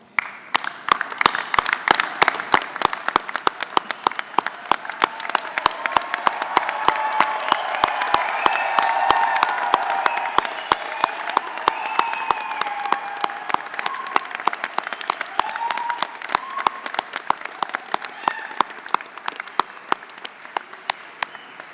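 Sustained applause from family, friends and guests congratulating postgraduate business graduates at a Melbourne graduation ceremony, with dense, continuous clapping filling the hall and building to a peak midway before easing slightly.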